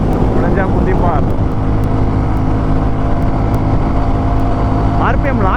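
A Royal Enfield Classic 350 motorcycle with a modified exhaust runs at speed, a loud, constant engine drone heavily mixed with wind rush. Its pitch climbs briefly near the start and end as the throttle is opened.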